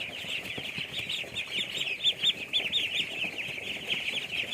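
Pekin ducklings give a steady stream of overlapping high, thin peeps with a quick repeating rhythm, close and fairly loud over a soft background clatter, and no one speaks.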